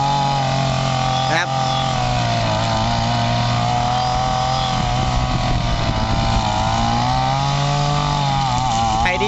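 A used Japanese Ryobi EKK-26 brush cutter with a small two-stroke engine runs loudly and steadily up close. Its buzzing drone holds a constant pitch with slight wavering throughout.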